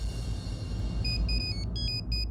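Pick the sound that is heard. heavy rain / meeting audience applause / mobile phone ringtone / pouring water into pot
mobile phone ringtone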